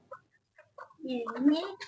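A chicken clucks nearby, a few soft short notes followed by a louder drawn-out cluck, with a little faint talk around it.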